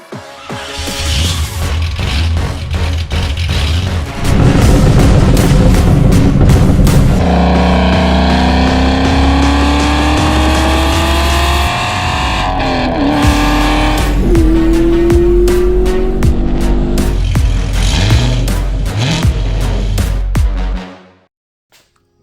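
An LQ4 V8 Pontiac Trans Am with a loud 4-inch muffler roars up close, rising through revs in long pulls with shifting drones, a steady rumbling idle between, then cutting off abruptly at the end.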